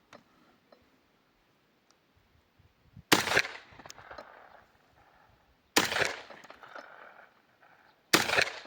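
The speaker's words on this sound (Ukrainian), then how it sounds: "Пробуємо 5 пострілів. Цілюся в центр." Three loud, sharp 12-gauge shotgun slug blasts fired at a target ring out several seconds apart, each trailing off into a short echo, with faint quiet handling sounds between.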